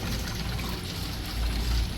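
Water poured off sardines during washing, a steady splashing pour that runs continuously and close for the whole stretch, with no talk over it.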